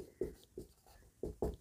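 A pen writes out a maths solution for a definite integral problem, several soft scratchy strokes in quick bursts, close and quiet, with no voice.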